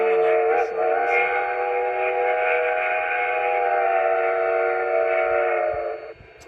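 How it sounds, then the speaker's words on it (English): LGB Mikado garden-scale steam locomotive with a Zimo sound decoder sounds a long, sustained chime whistle of about six seconds, held steady and fairly loud before dropping away, with a couple of faint short toots near the start. "I have a longer whistle and a shorter whistle."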